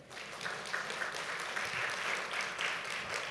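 A church congregation at a New Year prayer seminar applauds a pastor, a soft, even patter of many hands clapping at some distance, without talk over it.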